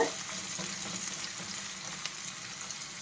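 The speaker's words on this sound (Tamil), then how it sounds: "இப்போ இதில் இந்த வெங்காயத்தை போட்டலாம் கொஞ்ச நேரம் வதக்கி விட்டுட்டு" Onions frying in a pan for chicken gravy, a steady close sizzle and crackle with a few faint stirring scrapes, quiet and continuous with no talk.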